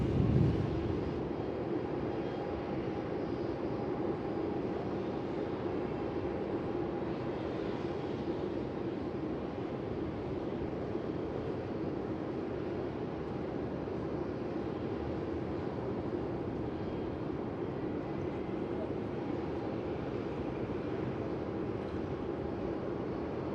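Airbus A330 landing on runway 34 at Melbourne Airport: a steady, broad jet roar held at an even level for over twenty seconds, heard from a distance with no voices.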